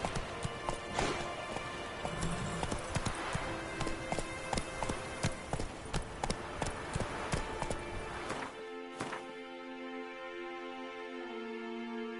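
Roach the horse from the video game The Witcher 3 trotting, a rhythmic run of hoof clip-clops close by that slows and stops near the end, leaving a quiet musical drone.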